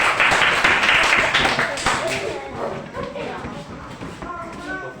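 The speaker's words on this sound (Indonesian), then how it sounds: "Tepuk tangan ya." Schoolchildren in a classroom clap their hands in a brief burst of loud, uneven clapping that tapers off as voices and chatter take over.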